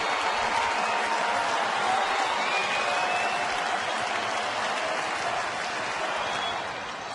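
A rowdy baseball crowd at a 2010 Rangers game cheers and applauds steadily in the 11th inning, a dense, loud roar of many voices and claps that holds level before easing slightly at the end.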